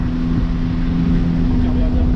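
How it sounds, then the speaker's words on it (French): A DeLorean DMC-12's PRV V6 engine runs at a steady, loud idle with a constant low hum, close by and alone. "Ça sonne presque bien un PRV, hein."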